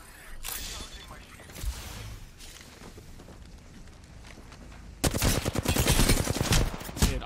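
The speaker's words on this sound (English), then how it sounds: "I'm taking fire." Gunfire in a first-person shooter video game, with scattered shots early, then a dense, loud burst of rapid fire near the end, mixed with game noise.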